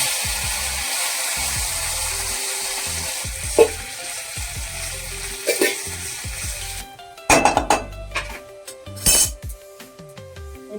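Pomfret fish fries in oil with a steady crackling sizzle for the first several seconds, then the sizzling drops away and loud clinks of a utensil against the pan and dishes punctuate the last few seconds.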